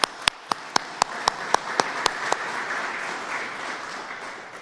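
Audience applause at a public event held by a state governor, opening with a few sharp, distinct claps that quickly swell into a steady, dense wash of clapping from a large crowd, sustained to the end.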